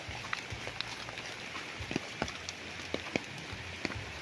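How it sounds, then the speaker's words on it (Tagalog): Rain falls steadily on a flat farm lot beside a river in Nagcarlan, Laguna, a constant wash of hiss with scattered sharper drops and taps close to the microphone, no voices. "naulan."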